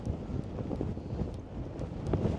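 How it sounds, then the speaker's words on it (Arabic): Strong wind buffets the microphone outdoors on a hard roadside walk, a continuous low roaring rush with gusty swells and no voices. "دابا الريح راه كيدفعني لهاد الشيء"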